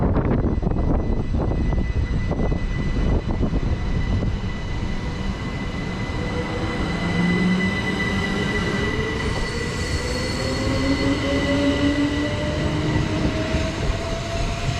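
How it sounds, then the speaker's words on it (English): A Southeastern passenger train at a platform in Kent, with a loud, steady rumble and whine of the running train throughout and rising tonal motor sounds as it moves. "1454 Southeastern service to London Charing Cross from Ramsgate / Ashford."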